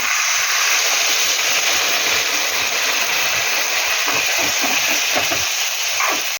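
Water tipped into a pan of spiced vegetables cooking for Bengali shukto, giving a steady loud hiss and sizzle that lasts throughout, with a few stirring clinks near the end.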